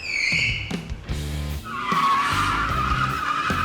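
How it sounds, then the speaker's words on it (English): Tires squeal in a long, loud screech as a car does burnouts in a parking lot, the engine revving beneath in rising and falling surges, a sharper brief squeal opening before the sustained howl. "He was in the parking lot burning out and having a blast"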